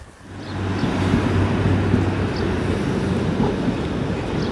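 Train passing on a rail line near East Kilbride, a steady, moderately loud rumble of wheels and wagons rolling by outdoors, sustained throughout with no talk.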